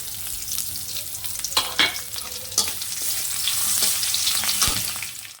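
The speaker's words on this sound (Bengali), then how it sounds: "এবার দেখো দিয়ে দিচ্ছি কাঁচা লঙ্কা আর আদা" Green chillies and ginger fry in hot oil in a kadai, giving a loud, close crackling sizzle with several sharp scraping stirs of a spatula against the pan; no talking.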